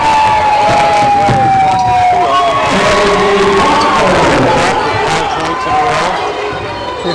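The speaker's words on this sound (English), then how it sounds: "The Stayton fans finally have a little something to cheer about." Fans in a high school basketball gym at Stayton cheer and shout loudly throughout, a dense roar of voices with whistles and whoops, while a commentator talks over the crowd noise.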